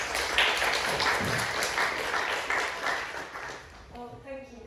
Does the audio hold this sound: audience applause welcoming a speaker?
yes